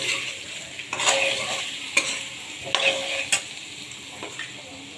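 Chili powder, turmeric, salt and ginger-cumin paste being stir-fried with vegetables in a pan while making a vegetable curry, a steady close sizzle broken by several sharp scraping stirs of the spoon.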